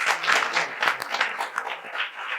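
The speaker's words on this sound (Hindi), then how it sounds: "जोरदार तालियां।" Loud, dense audience clapping at a coaching-class farewell program, swelling and ebbing in waves with no talking over it.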